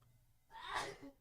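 A single soft sneeze from a person nearby in a home studio, a brief breathy burst rising and fading within about half a second over a quiet background hum.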